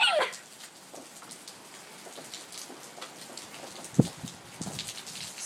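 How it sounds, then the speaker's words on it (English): Rain falling outdoors in a sideways, windblown shower, a steady soft patter with a sharp drop hit near the end, heard alone without talk. "The rain. It's raining."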